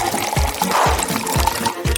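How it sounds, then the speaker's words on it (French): Potato pieces drop into boiling frying oil, giving a steady bubbling sizzle punctuated by several soft plops of pieces hitting the oil, close by, with no talking. "Les pommes de terre sont divisées en morceaux. Puis jetées dans l'huile bouillante."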